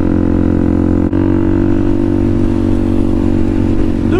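A 2022 Suzuki DRZ400SM single-cylinder motorcycle engine drones steadily and loud while riding at speed, with a sustained harmonic hum and wind rush, no talking.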